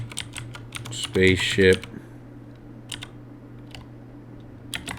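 A computer keyboard clicks out a few scattered keystrokes close by, while one spoken word breaks in partway through.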